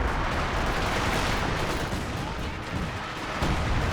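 Artillery barrage in the strategy game Company of Heroes 2, a dense rumbling roar of distant shell blasts and gunfire rolling on continuously without clear breaks.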